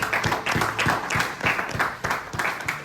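A church congregation claps and cheers for the Lord in rhythmic bursts, sustained and fairly close, with voices mixed into the clapping.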